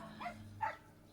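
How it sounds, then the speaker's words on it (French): Dogs barking indoors, two short yelping barks about half a second apart, moderately near but not loud. "Excusez pour les aboiements de mes chiens."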